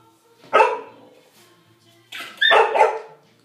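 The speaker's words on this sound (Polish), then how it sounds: "Nie wolno szczekać." A pet dog barks twice in a home during a summer celebration, each a loud, close burst of barking with a gap of quiet between.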